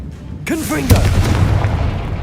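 A Confringo spell explosion in the Hogwarts Legacy video game, one sharp booming blast after a short rising whoosh, followed by a rumbling low tail that lingers close and loud.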